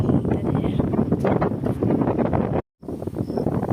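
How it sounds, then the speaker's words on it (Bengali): Gusty wind buffets the microphone with a steady rushing roar outdoors, broken by a brief silent gap near the end. "বেশ ভালো লাগে হাওয়া বাতাস হচ্ছে"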